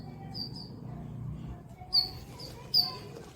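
A small bird, a sparrow, gives a few short high chirps in two quick bursts over a quiet background with a faint low hum.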